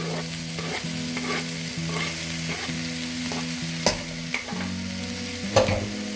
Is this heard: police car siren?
no